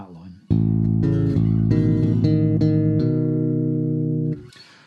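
Bass guitar playing a Lydian-sounding lick, a clear sequence of plucked notes and double stops ringing out close and loud before a final sustained note fades, with a brief voice at the very start.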